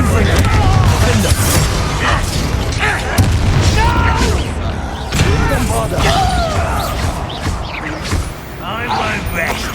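Fiery Confringo blasting spell in the video game Hogwarts Legacy, loud booming explosions bursting repeatedly amid constant combat noise, with a voice talking over the action.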